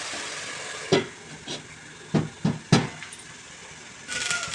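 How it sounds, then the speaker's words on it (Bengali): Vegetables frying and being stirred in a pan with coriander powder, salt and turmeric: a soft steady sizzle with a few sharp scraping stirs, close and fairly quiet, with no voice. "এবার ভালো করে কষিয়ে নেব সামান্য ধনের গুঁড়ো দিয়ে দিচ্ছি"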